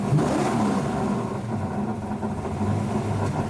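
A 1964 Plymouth Belvedere's Hemi V8 engine rumbles loudly close by, a deep throaty exhaust growl with slight swells in revs throughout.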